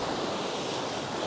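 Sea waves wash steadily against a rock slab running into the sea on a shore near Sukko, Anapa, a continuous broadband surf roar with some wind buffeting, close and fairly loud, with no voices.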